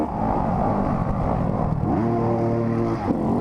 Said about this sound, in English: Oh geez, they're really revving.